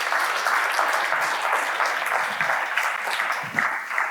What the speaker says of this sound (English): Can we just have a quick round of applause for Bella?